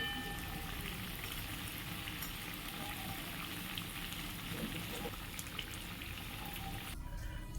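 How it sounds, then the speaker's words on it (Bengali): Ground lentil paste fritters frying in hot oil for a mung and pea kofta curry, a dense, continuous close sizzle that holds steady throughout. "আমি সমস্ত ডাল বাটাটা বড়ার আকারে ভেজে নিচ্ছি"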